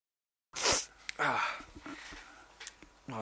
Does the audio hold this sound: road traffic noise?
no